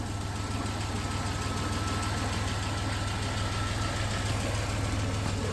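The engine of a 1991 Dodge Caravan runs for the first time in over 19 years, idling with a steady low rumble and a regular knocking pulse throughout, close and without talk.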